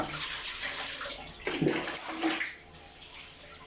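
Water splashes and sloshes nearby while a newborn baby is bathed Indian style in a tub, with a louder swirl of splashing in the middle, then gentler trickling.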